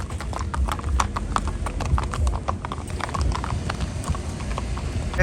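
Steady clip-clop of horse hooves on a hard surface at the Maghi horse fair in Sri Muktsar Sahib, a regular walking rhythm close by, with a busy crowd murmuring in the background.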